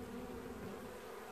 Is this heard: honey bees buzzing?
yes